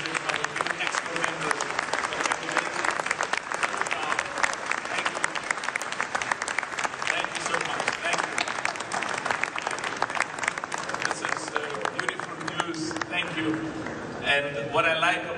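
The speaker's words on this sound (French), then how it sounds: "Can we clap hands for them?" An audience claps steadily and loudly for newly elected officials at a gathering, a dense, continuous round of applause lasting throughout with faint voices mixed in toward the end.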